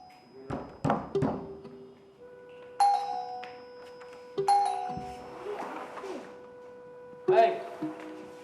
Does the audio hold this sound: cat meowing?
no